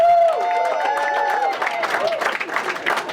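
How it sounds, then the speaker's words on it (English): Audience applause and cheering rise at a Thursday night open mic in a Virginia comedy club, crowd clapping building after a sustained voice, close and moderately loud. "Give yourselves a round of applause"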